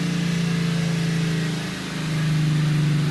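A 2008 Lexus IS-F with a 5.0 V8 runs on a dyno, giving a steady, loud, close engine drone that dips briefly and then rises again.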